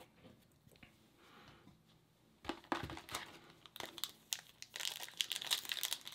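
A wrapped pack of 2018 Marvel Masterpiece trading cards is torn open close up, with quiet crinkling at first building into louder, busy crumpling and tearing of the wrapper.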